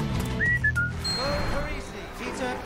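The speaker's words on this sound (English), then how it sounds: "Spidey whistles his own theme" Spider-Man whistles his own theme tune in a few short, clear rising notes over a busy film soundtrack of voices and background noise.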